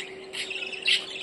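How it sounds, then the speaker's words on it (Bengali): Several quick squawking chirps from pet budgerigars kept indoors, a soft chatter rising to a sharper, louder call near the end, heard close with no voices over it. "যেখানে আমার পাখিগুলো কিন্তু কিচিরমিচির সুন্দর আওয়াজ করছে,"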